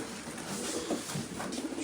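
White pigeons, a matched team of show birds, cooing in soft low repeated phrases, close by and alone without talk, over a steady background hiss.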